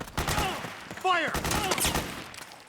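Battle in Metal Gear Solid 4, with rapid bursts of gunfire crackling under shouted voices, close and fairly loud, fading slightly toward the end.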